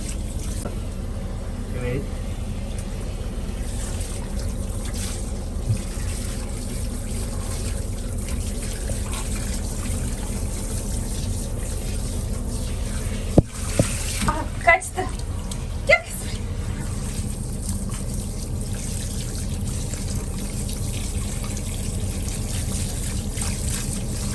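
A maltipoo being rinsed under a shower during its first bath in a caravan: continuous close water spray and trickle throughout, with a few brief knocks, while people talk over it.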